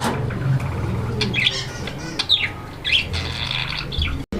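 Fancy pigeons in a seller's collection, among them American tiger birds, give sharp squawks and chirps in short bursts over a low background murmur. One brief break in the sound comes near the end.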